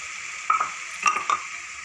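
A bottle gourd and chana dal mixture is stirred in a pan over a soft sizzle, with three brief metallic scrapes and clinks of the spoon close by.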